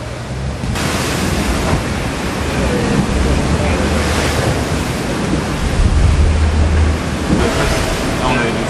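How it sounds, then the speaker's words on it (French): Wind and breaking sea waves heard aboard the racing sailboat Spindrift 2 in a short, choppy sea with unstable wind, a steady loud roar of rushing water and wind buffeting throughout. "la mer est pas grosse mais courte, donc c'est pas facile de placer le bateau"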